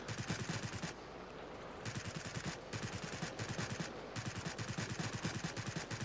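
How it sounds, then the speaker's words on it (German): Machine gun firing in a video game, with rapid rhythmic bursts of shots separated by short pauses, fairly loud and close, with no talk over them. "Und mein Maschinengewehr ist überlastet."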